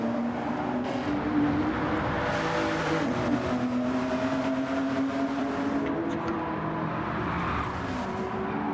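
A GTO race car in a racing video game laps Deep Forest Raceway with a steady, loud engine drone that rises and falls through gear changes, continuous and close throughout.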